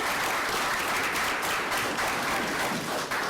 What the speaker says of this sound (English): We'll give you a round of applause for your efforts.